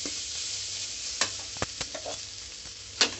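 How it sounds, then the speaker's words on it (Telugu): Eggplant rice is stirred in a hot pan with a spoon, giving a steady sizzle broken by several sharp scraping knocks against the metal, close and alone without talk. "వంకాయ అన్నం కాబట్టి అన్నానికి వంకాయకి బాగా కలిసేటట్టు బాగా అన్నీ కలుపుకుందామండి."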